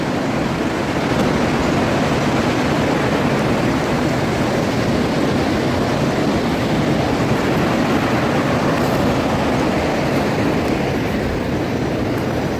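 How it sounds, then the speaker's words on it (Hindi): A waterfall below a mountain near Baijnath cave in Paprola roars as a loud, unbroken wash of broadband noise, heard close and without any voices. "इसके साथ ही है आपका वाटरफॉल, ये इस पहाड़ के नीचे ही आपको वाटरफॉल मिलेगा।"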